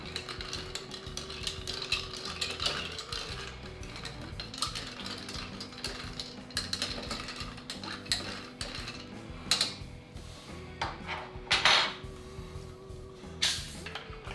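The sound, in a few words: stirring a sake cocktail to chill it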